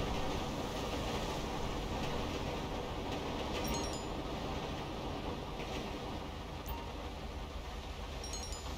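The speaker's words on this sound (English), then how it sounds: "Train busting through." Train rolling past in the video game GTA 5, a continuous rumbling roar that holds steady, with faint metallic squeals near the start and end.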